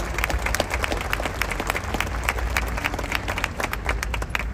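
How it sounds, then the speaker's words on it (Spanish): An audience applauds at the opening ceremony of a meat and wine fair, dense continuous clapping at an even level over a low steady hum, with no talk. "Un aplauso, por favor."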